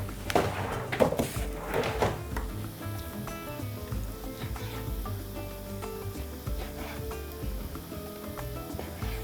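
Half a kilogram of beef tenderloin pieces frying in a pan sizzle steadily up close, with a few sharp knocks and clatters near the start before the frying settles into a continuous hiss.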